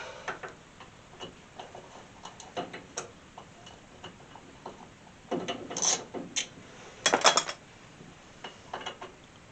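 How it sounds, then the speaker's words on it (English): A ratchet gear wrench clicks in quick, faint bursts while removing 9/16 bolts during a Scarebird brake installation on a 1964 Ford Falcon, with a few louder clusters of ratcheting near the end. "I grabbed a 9/16 while I was at it. And a gear wrench."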